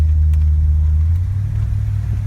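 A 1966 Oldsmobile Toronado rolls up a driveway with a steady, loud low-pitched engine rumble that stays level and settles slightly in the second half, with no voices over it.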